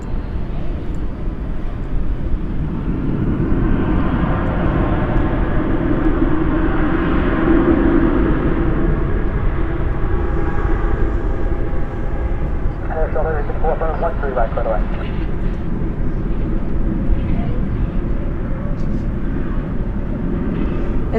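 Airliner departing Dallas/Fort Worth at night, a loud sustained engine roar lasting the whole stretch, with people talking over it.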